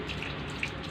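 Water from a child pouring onto a tulsi plant runs in a brief, steady close splash with a small spike near the end, no talking.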